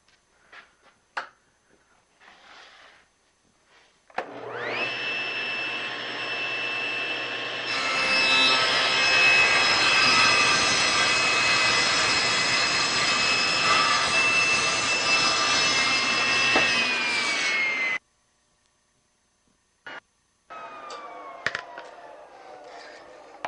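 Table saw with a miter gauge setup cutting a taper in wood, the blade spinning up with a loud steady whine, a heavier roar through the cut, then spinning down into quiet.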